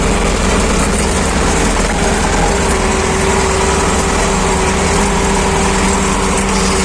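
A T-40AM tractor pulling an AD-2.4 disc harrow during spring tillage, its engine droning steadily and loudly throughout with a constant low hum and no talk.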